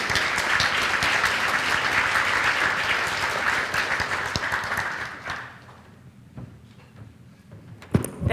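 Dense, loud audience applause at a scientific meeting's conference hall, steady for about five seconds before tapering off into quiet room noise, with a few last claps and a bump near the end.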